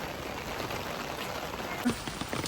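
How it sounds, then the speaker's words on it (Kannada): Steady rain falls continuously, a dense even patter of drops striking surfaces nearby with no pauses and no voices. "ಮಳೆ ಬಂದು ಉಂಟು"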